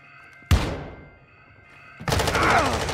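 A sharp single gunshot cracks out in a Call of Duty DMZ match, fades, then a heavier burst of close, loud gunfire starts and keeps going to the end.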